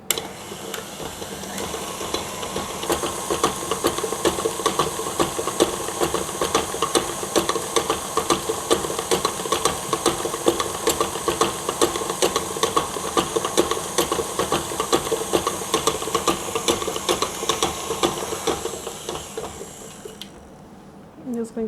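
An electric mixer beats sugar and oil together for an eggless vanilla oil cake, holding a steady mechanical whir with a rapid rattling pulse for about twenty seconds before it winds down and stops.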